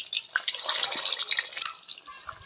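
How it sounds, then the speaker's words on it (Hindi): Eggs dropped into hot mustard oil in a wok, a busy close crackle of popping and spitting oil, steady and bright before fading slightly at the end. "तेल गरम है, अब डालेंगे अंडा फ्राई होने के लिए।"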